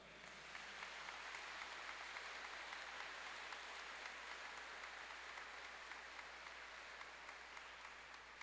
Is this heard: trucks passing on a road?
no